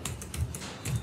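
Computer keyboard typing while writing console.log code in Angular, a quick close patter of several keystrokes in uneven bursts, clear and alone.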